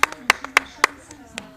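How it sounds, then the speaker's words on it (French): Hands clap several times in a loose, uneven rhythm, sharp and close, with a voice speaking alongside. "C'est qui applaudit?"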